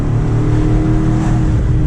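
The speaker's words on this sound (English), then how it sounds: "it sounds like a vacuum when you go under an underpass like that" Twin-turbo V8 of a 2024 BMW X5 M Competition accelerating through an underpass, a loud, steady low engine roar with a whooshing, echoing tone, close and continuous with no talking.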